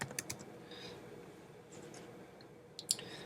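Computer mouse clicks on a graph in Minitab Express come as a few faint, quick taps, a small cluster at the start and a sharper pair near the end, in a quiet room without speech.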